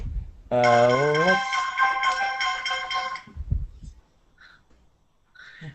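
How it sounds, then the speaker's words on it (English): Cell phone ringtone ringing, a loud bright melodic tone repeating for about three seconds before cutting off, followed by faint thumps and brief soft sounds. "Forgot to silence the cell phone."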